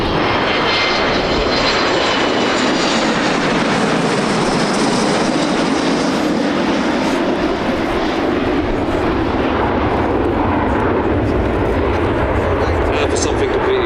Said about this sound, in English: Left-hand side we have our Navy fighters, the Bearcat, the Wildcat, and 3 Corsairs.